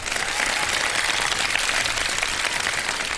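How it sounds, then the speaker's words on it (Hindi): A studio audience gives sustained applause for three guests on a Ramadan television show, a thick, even roar of many hands clapping, loud and unbroken, with a faint crowd murmur underneath. "तीनों मेहमानों के लिए बहुत सारी तालियां।"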